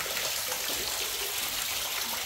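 Pumped water pours steadily into a small artificial cave pool at a resort, a continuous close splashing and trickling with no voices over it.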